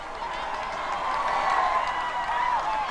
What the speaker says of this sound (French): il a été présenté sous les acclamations à la presse